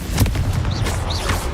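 A Confringo fire-blast spell explodes in Hogwarts Legacy, a dense, rumbling burst that rolls on steadily through the short moment with a boomy low end.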